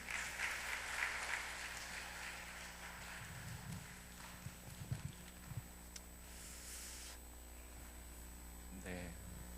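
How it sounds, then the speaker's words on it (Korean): Applause from a church congregation at a summer thanksgiving service for education departments, welcoming the pastor up to speak; a dense patter of clapping in the opening seconds fades into room noise and a few scattered knocks. "박수"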